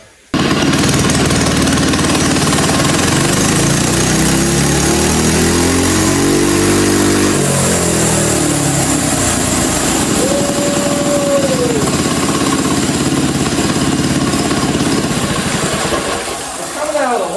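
A Massimo MB100 79cc mini bike engine, fitted with a prototype performance exhaust, runs steadily on a dyno, its loud drone swelling and falling through a rev sweep before easing off near the end.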